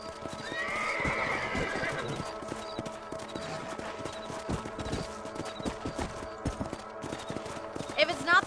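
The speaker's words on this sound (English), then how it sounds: "Let's get back on the horses and see what else is going on." Horses neigh and whinny near the start in a video game, then hooves clip-clop steadily at a gallop amid busy game background noise, with a sharp sound at the end.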